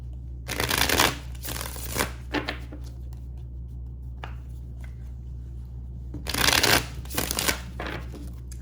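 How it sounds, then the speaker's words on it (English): Two card decks shuffled in a few quick riffling bursts, close and crisp, with quieter gaps between and a low steady hum beneath. "I'm going to shuffle both decks 3 times and then just go right through them."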